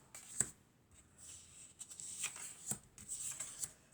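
Tarot cards being shuffled by hand make soft papery riffles and sharp flicks, a run of quick irregular bursts close up in a quiet room.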